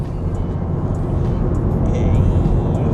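Honda Civic Type R engine running steadily while driving, a continuous low rumble with road and wind noise throughout, no clear revving peaks.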